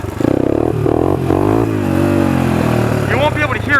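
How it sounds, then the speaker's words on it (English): Modified Honda 300EX ATV with a loud aftermarket exhaust, revving in short rising and falling bursts up close, while a person talks over it. "the exhaust gets kind of loud"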